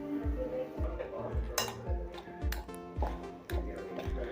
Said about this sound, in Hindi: हमने चम्मच की मदद से इस तरह से अच्छे से मिला लेते हैं।